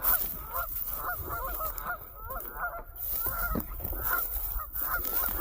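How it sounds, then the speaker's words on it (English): A flock of ducks honking repeatedly as they fly past overhead, steady overlapping calls at moderate distance, no talking. "There goes some more ducks."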